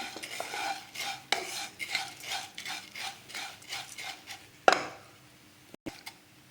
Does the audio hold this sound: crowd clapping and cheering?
no